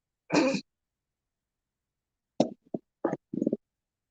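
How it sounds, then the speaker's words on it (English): A person blows their nose with a short, sharp nasal blast, then after a pause makes a few brief snorting sniffs and gusts close to the microphone, with no talking. "I had to blow my nose again"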